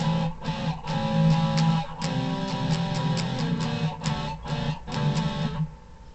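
An acoustic guitar strums the intro of a song, with steady rhythmic down strums and short gaps, played up close with no talking.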